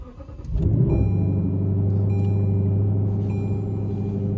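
A stock Lexus LC500 engine cranks and catches after about half a second, then settles into a steady, close, loud idle that holds to the end with no talking.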